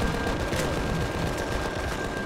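Rapid, dense gunfire from a shotgun in the sci-fi survival game Empyrion: Galactic Survival, a continuous loud barrage of shots with no clear gaps between them.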